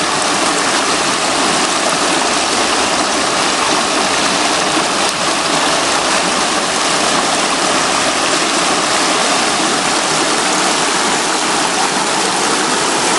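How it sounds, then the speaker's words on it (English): Small rapids in Nidd Gorge rush in a loud, constant broadband roar of flowing river water, close by and unbroken throughout. "Little rapids."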